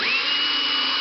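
Power drill spinning up to a steady high whine while removing screws from a boat's interior wall panel, close and loud, one short continuous burst.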